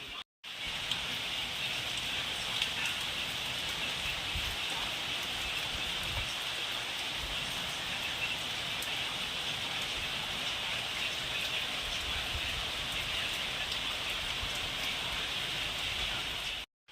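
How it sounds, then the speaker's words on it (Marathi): Steady rain falls throughout as a dense, even hiss of drops on surfaces, close and continuous, with no voices. "हा पाऊस आलाय."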